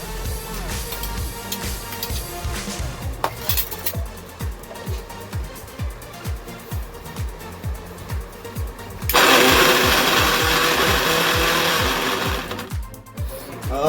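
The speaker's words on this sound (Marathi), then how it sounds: "आता पुढे बारीक करण्यासाठी मी आता मिक्सरला लावणार आहे" An electric mixer grinder chops onion, carrot and cabbage for momo filling. It runs in loud, rhythmic pulsing bursts, then settles into a harsher continuous whir before cutting off near the end.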